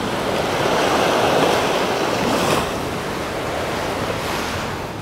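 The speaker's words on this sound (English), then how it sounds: "today has been a little bit windy compared to the other days, and you see the waves a little bit stronger today" Ocean surf breaking steadily on a windy day at a tropical Maldives island resort, a continuous broad wash of waves with wind rushing across the microphone, loud and close throughout.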